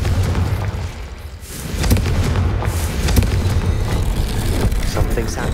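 Confringo spell explosions in the video game Hogwarts Legacy, loud booming blasts with deep low rumble over continuous game combat noise, with a voice heard briefly.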